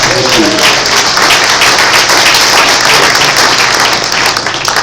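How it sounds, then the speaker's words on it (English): An audience at a museum happy hour talk gives a close, loud round of applause that holds steady for a few seconds with a faint murmur of voices underneath. "So let's have a round of applause for that."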